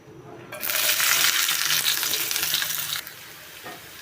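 Onions hitting hot oil in a wok, a sudden loud burst of hissing sizzle that holds steady for a few seconds and then drops to a quieter crackle, close up with no talking.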